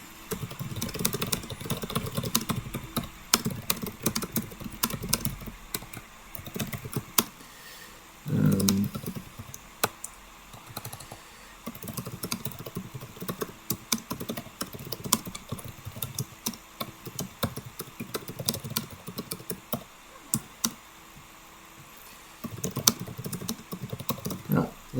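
Typing a text prompt on a computer keyboard, a steady run of light clicking keystrokes across a long stretch, faint and close, over a low background hum with no speech.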